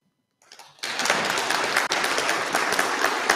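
Audience applause at a conference on Africa climate adaptation starts after a brief quiet moment and swells into steady, dense clapping from a large hall crowd, sustained and fairly loud throughout.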